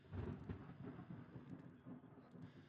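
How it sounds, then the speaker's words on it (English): Low rumbling thunder from a Magic: The Gathering video game, a rolling, fairly loud rumble with several swells across the clip. "I hear thunder."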